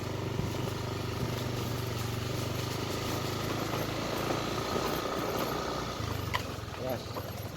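A motorcycle engine runs hard at full throttle on Simeulue Island in Aceh, a steady, loud, buzzing drone that holds throughout, with a voice talking over it.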